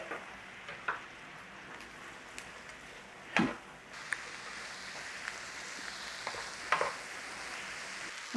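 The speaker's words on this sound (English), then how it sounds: "And then we're going in with our cabbage. Start to cook the cabbage down." Cabbage with caraway seeds cooking down in a pan, a faint steady frying hiss with occasional stirring knocks and scrapes, quiet and without talking.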